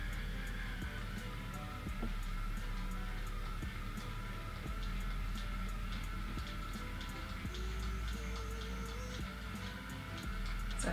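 An electric scalp massager hums on its first speed setting, a steady low motor drone with faint regular ticking on top, running continuously at a constant level.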